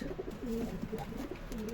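Pigeons coo softly in low, repeated murmurs, layered over one another against a steady background hum.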